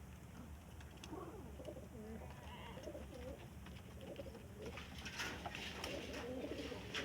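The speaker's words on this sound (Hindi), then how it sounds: "देखो ये बैठा कबूतर अंदरों" Pigeon cooing inside a coop, soft low coos repeating under a constant background hiss, with a voice speaking faintly.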